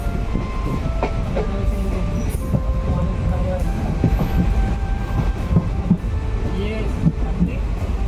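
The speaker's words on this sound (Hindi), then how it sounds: "ये ट्रेन का सफ़र है, ये बहुत ही बढ़िया बहुत ही सुंदर सफ़र" A passenger train travels from Madgaon toward Gokarna, rumbling loudly from on board with rhythmic wheel clatter, clicks over rail joints and brief metallic squeals, while voices murmur in the background.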